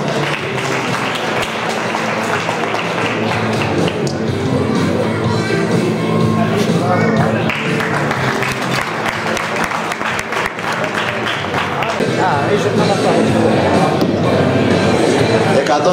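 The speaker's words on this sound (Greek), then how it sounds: "Ένα χειροκρότημα για τον Πέτρο" Audience applause at an open squat max-reps powerlifting competition, sustained and fairly loud for the whole stretch, with crowd murmur and some talk mixed in beneath the clapping.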